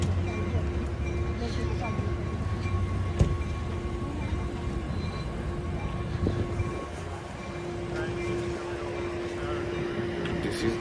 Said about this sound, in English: This is Ace train.